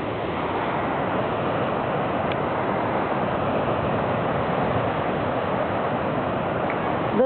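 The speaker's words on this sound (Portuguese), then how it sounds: "Das ondas do mar nas rochas." Dense, continuous roar of sea surf churning against rocks at Praia Cabo do Mundo, broad and unbroken, with a wind-like hiss layered over the crashing water.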